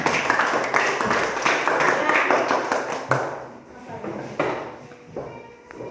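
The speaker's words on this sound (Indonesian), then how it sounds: "Iya, terima kasih, tepuk tangan." A fourth-grade classroom of children claps hands together for about three seconds in a dense, lively burst, then trails off to scattered claps and taps with voices in the room.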